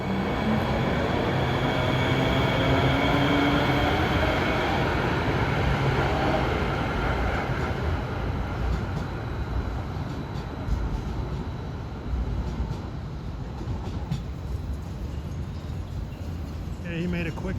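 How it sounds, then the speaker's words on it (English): A New Jersey Transit Hudson Bergen Light Rail train bound for Bayonne West 8th Street pulls into 22nd Street station, a steady rumbling roll with rail noise that holds throughout, while someone talks over it. "arriving, we have a Bayonne West 8th Street bound train"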